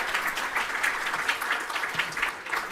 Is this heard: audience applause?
yes